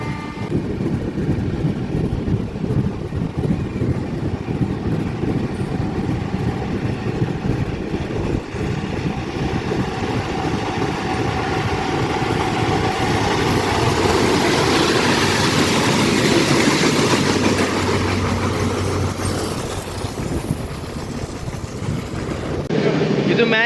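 Steady rumble and rattle of a moving passenger train in India, heard from inside a carriage, continuous and fairly loud throughout with faint voices in the background.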